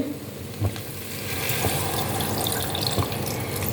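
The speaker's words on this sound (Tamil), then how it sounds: "எடுத்து கொஞ்சமாக புளி கரைச்சி ஊற்றுறேன்" Dissolved tamarind water poured into a cooking pot for vendakkai more kuzhambu, a steady close watery splashing with faint sizzle and a few soft clinks.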